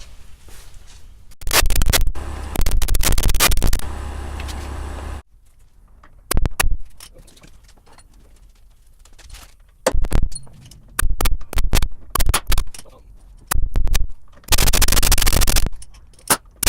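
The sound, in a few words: chiseling a part off a 1976 Ford F150 truck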